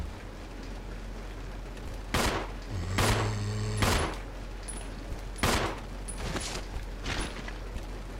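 Gunshots in the video game Resident Evil 0 HD Remaster, four loud sharp blasts spaced a second or so apart over a constant low game ambience, with a metallic ringing tail after one shot.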